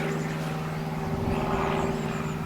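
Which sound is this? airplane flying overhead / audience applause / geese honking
airplane flying overhead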